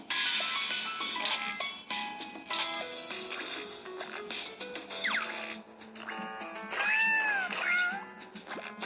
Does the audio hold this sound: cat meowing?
yes